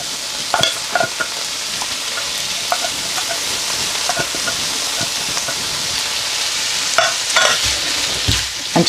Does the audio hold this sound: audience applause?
no